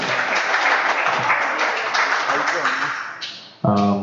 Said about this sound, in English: So a huge round of applause to them